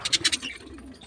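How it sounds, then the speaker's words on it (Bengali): Pigeons and doves in a loft with young birds, a quick run of four short calls followed by softer, fainter call sounds, close by with no talking. "আর এরকম ঘু পাখিগুলো দেখুন"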